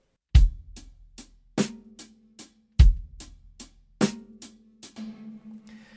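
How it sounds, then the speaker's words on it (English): A drum beat played alone with three notes on the hi-hat: bass and snare hits alternating under quick, steady hi-hat ticks, close and clear. "we're going to move on to the beat with 3 notes on the hi-hat."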